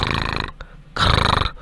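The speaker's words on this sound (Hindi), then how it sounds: "चाचा चौधरी खर्राटे ले रहे हैं" Chacha Chaudhary, an older comic-book man, snores at night: two loud, rasping snores separated by a short quiet pause, close and alone.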